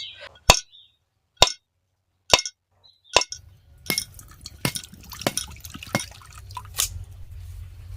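A coconut struck open for a sweet pitha filling: four sharp, isolated knocks spaced about a second apart, then the coconut water dripping and splattering with scattered clinks, close by and without talk.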